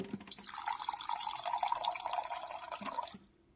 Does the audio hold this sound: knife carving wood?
no